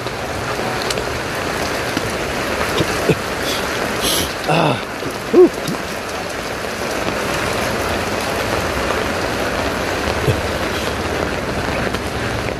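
Heavy rain pours steadily during flooding, a loud continuous wash of drops with a few brief thumps and knocks partway through.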